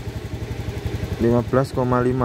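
A motorcycle engine idles with a steady, close putter, then someone speaks over it for the second half.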